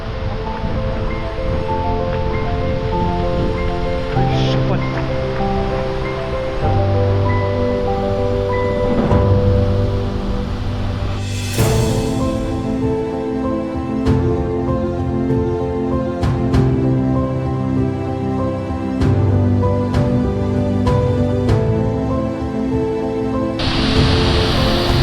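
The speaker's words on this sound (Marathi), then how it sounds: "वसुंधरा वॉटरफॉलच्या एकदम जवळ आले आणि जवळ असला मोठा आवाज यायला लागला." Vasundhara waterfall near Bhandardara pours down in a loud, steady roar of crashing water that fills the whole stretch without a break, heard close up and with no voices.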